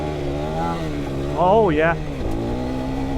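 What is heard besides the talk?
KTM 390 Adventure R motorcycle accelerating in second gear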